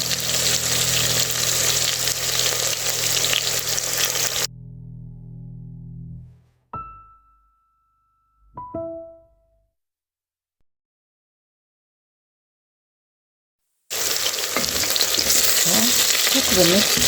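A matoke and arrowroot mixture sizzles loudly and steadily in a single pan, then cuts to near silence with a few faint clinks before the close frying hiss returns.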